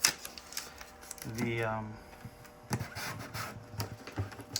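Tape is pulled and pressed onto a screen-printing screen, giving short rasping tears and tapping clicks, with a brief drawn-out stretch of tape in the middle; a voice speaks briefly.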